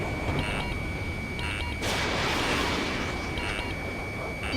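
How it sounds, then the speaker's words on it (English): In the Ace Combat 7 pipeline destruction mission, missiles launch with a loud rushing whoosh and rumble that builds midway over continuous engine and combat noise, with short radio chatter tones around it. "Missile. Missile launch. Missile."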